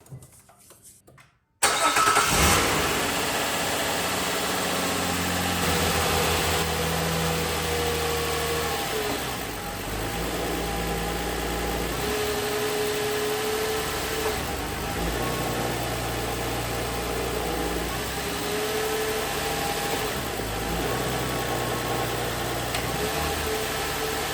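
A Nissan Quest engine cranks and catches after a short quiet moment, then settles into a steady, loud close-up idle with a low hum that runs on for about twenty seconds.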